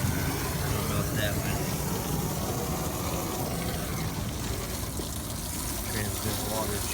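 A hose runs water over a rooftop HVAC unit in a steady, broad rush that holds level throughout, with a voice faintly under it.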